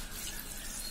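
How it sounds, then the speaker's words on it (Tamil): Soaked peas being rinsed under running water and drained, a steady close rush of tap water splashing over them without a break. "அப்புறம் அதை நல்லா வாஷ் பண்ணிட்டு தண்ணியை வடிச்சிட்டு எடுத்துக்கேன்"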